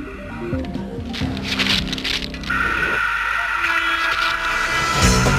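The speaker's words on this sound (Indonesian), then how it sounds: "Suara roda kereta api dapat kita dengar meskipun kereta apinya masih jauh." Train wheels roll over rails in a steady rumbling clatter that grows brighter and louder partway through, with a higher metallic ringing over the top.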